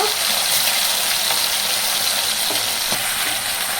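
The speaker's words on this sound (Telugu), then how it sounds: "బాగా హీట్ అయిన తర్వాత మ్యారినేట్ చేసుకున్న రొయ్యల్ని వేసుకోవాలండి" Marinated prawns sizzle and fry in hot oil, a steady, loud broadband crackle with occasional pops, close up and continuous throughout.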